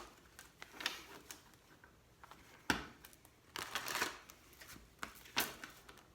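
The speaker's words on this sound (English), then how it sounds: "I feel like shuffling is taking forever tonight." Tarot cards are shuffled in quiet, close bursts of soft riffling and flicking, with uneven pauses between bunches of crisp card slaps and rustles.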